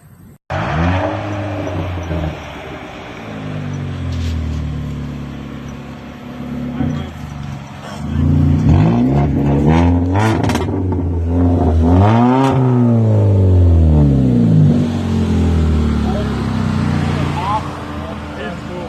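A Chevrolet Cruze exhaust revs repeatedly, rising and falling in loud throaty bursts close by, with a steady idle rumble between revs.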